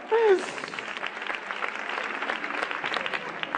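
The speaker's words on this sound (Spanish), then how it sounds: "Se merece un aplauso, sí señor" An audience at an inspiration talk bursts into sustained applause, dense steady clapping filling the room for several seconds, with a brief voice at the very start.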